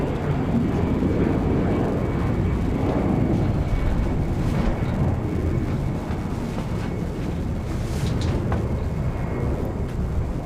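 A Shenzhen Airlines airliner roars at Incheon airport in Seoul, a loud, sustained broadband jet engine rush that fills the whole stretch without any talk.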